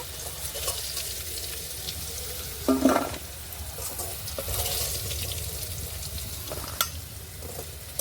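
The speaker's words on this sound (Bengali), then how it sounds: "আলুটা ভেজে নিয়েছি, এবার তুলে নেব।" Potatoes fry in hot oil in a pan, giving a steady close sizzle broken by a brief clatter of stirring partway through.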